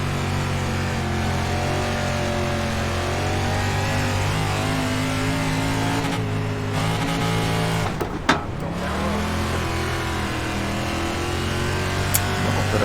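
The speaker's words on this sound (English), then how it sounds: "you can just hear the engine bog down" A race car engine in the iRacing sim drones steadily, then drops and bogs as the car slides sideways through a corner. The engine note is sustained and continuous, with a brief dip and recovery near the middle and no talking.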